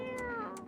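A cat in the video game No, I'm Not a Human gives a single short meow, clear and close, with a faint hiss of breath at its start and end and no talking over it.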